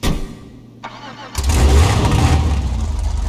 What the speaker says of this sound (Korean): 제가 엔진 소리 한번 들어볼게요